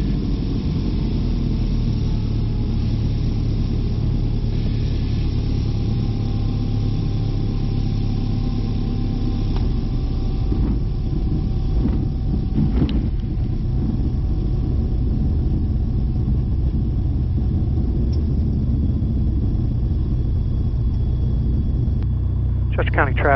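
A Mooney M20J 205 single-engine plane's piston engine drones steadily from the cockpit on an ILS approach, with a slight swell as power is added partway through, the loud hum continuous throughout.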